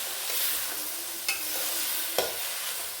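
Sliced onions and finely chopped tomatoes sauté over high heat in a pan for a Kerala egg roast, giving a steady, close sizzle with a couple of sharp scraping stirs and no talking.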